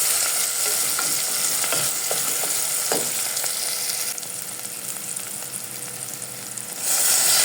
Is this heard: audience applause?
no